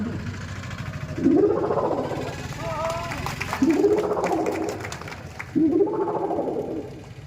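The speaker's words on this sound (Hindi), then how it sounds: "कहीं से उल्लू आवाज है, उल्लू।" An owl gives three low, hollow hooting calls at even intervals, each swelling and fading, against a faint rumbling background.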